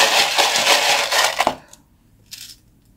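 Small scroll-shaped message cards are shuffled, making a dense rattling, clicking jumble for about a second and a half, then a brief soft rustle after a pause, close by.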